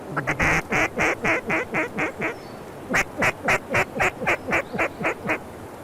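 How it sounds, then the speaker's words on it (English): Wild ducks quack repeatedly in a rapid rhythmic series of loud, nearby calls during a hunt, then pause briefly before another burst of quacks with no talking. "Big duck."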